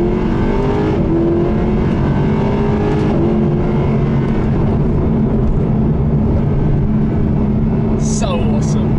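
A front-engined sports car driving along a road, its engine droning loudly and steadily throughout with road and wind noise close by.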